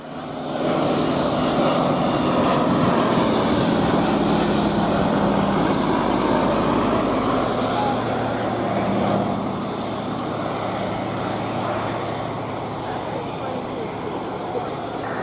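A Fairey Swordfish biplane drones overhead at an air show with a steady, rumbling engine note, loud and continuous for the whole stretch, slowly fading a little toward the end.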